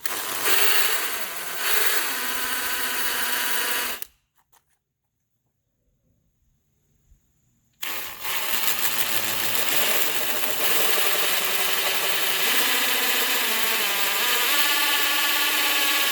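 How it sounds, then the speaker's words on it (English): A power drill bores into the bottom ends of 4x4 wooden posts, making a steady, loud whirring grind that stops for several seconds of near silence before starting again and running on continuously. "Now we got to drill out the bottom of these 4x4s to accept the bolt."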